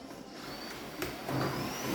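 A Bosch Unlimited 7 cordless stick vacuum cleaner (BBS711) switches on and runs indoors, a steady whirring motor hum that rises a notch in loudness partway through, with no talking.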